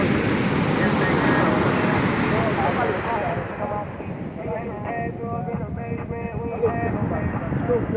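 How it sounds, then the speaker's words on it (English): Atlantic Ocean surf at a beach in Cotonou, Benin at sunset, a loud roaring wash of breaking waves mixed with wind buffeting the microphone, easing into softer surf with faint voices. "Right now I'm just enjoying the sound of the ocean, looking at the waves."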